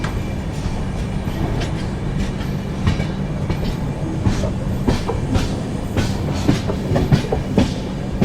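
The Tirupati–Puri Express on its first LHB run rolls steadily after leaving Kavali, heard from on board. A loud continuous rumble carries a repeating clickety-clack of wheels over rail joints, with no talking.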